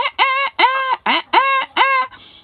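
Chickens give a run of five harsh, strained squawks with wheezy, rasping tone, evenly spaced and loud, trailing off into a faint hoarse breath at the end with no talking.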